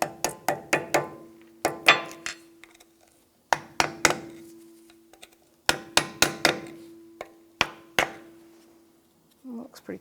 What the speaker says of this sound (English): I'm just going to use a pry bar and a little hammer